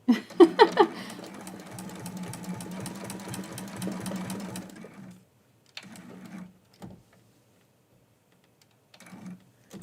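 A sewing machine stitches quilt-as-you-go Christmas quilt pieces in a fast, even mechanical chatter for about five seconds, then stops, followed by a few short bursts of stitching and quiet gaps.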